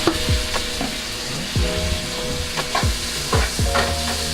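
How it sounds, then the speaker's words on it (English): Garlic and pepper paste stirred in a hot pan for a vegan coconut curry, a steady sizzle broken by a few distinct scraping strokes of the spoon, close and fairly loud. "I'm gonna stir that up."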